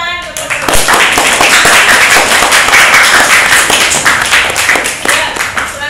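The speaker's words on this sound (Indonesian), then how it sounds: "Kita kasih tepuk tangan." An audience claps after a group presentation, with dense, steady clapping that stays loud from start to finish and is heard close by.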